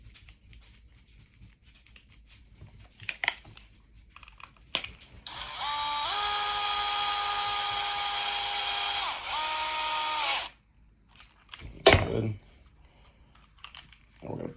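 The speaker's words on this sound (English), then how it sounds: "Go ahead and put this Torx back in." A powered driver spins a Torx screw into the starter of a Husqvarna 562XP chainsaw, a whirring buzz of about five seconds whose pitch shifts as the screw seats, framed by light handling clicks and a sharp knock, close up.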